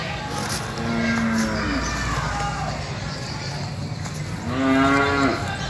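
A cow at a cattle market gives two loud, drawn-out moos, one early and one near the end, close by over outdoor background noise.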